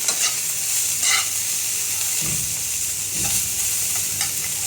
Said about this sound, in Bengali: তো পেঁয়াজ রসুন আর তেলে কম তেলে আমি এটাকে ভাজা ভাজা করবো।